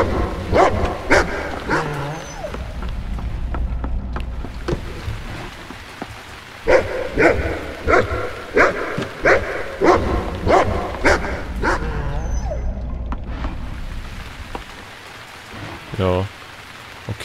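In the video game The Cave, a dog barks in short repeated bursts over a steady bed of rain, while someone talks intermittently.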